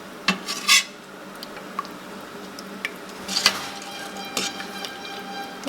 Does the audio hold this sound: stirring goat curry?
yes